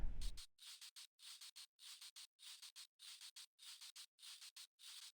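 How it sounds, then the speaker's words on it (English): A dry, unprocessed shaker sample from a remix repeats in a steady rhythmic pattern of short hissy shakes in pairs and triplets, crisp and close, after a brief low thump at the start. "this cute little shaker"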